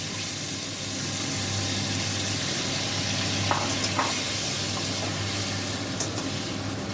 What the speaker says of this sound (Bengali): মধ্যে একটু জল দিয়ে দিই